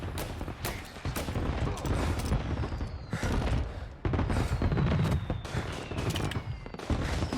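Rapid bursts of gunfire in Mafia Definitive Edition ring out continuously, dense machine-gun-like volleys with heavy low thumps running throughout, loud and close, with occasional vocal sounds mixed in.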